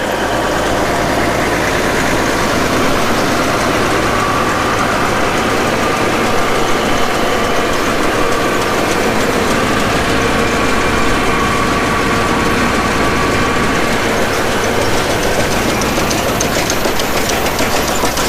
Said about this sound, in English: I love how quiet the actual combine is.